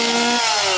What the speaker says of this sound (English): if you are not a fan of chainsaws, you're probably not going to like going through here